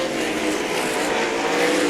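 A sprint car engine keeps running after a spin at Meridian Speedway, giving a steady, close, continuous drone with no break and little or no talk over it.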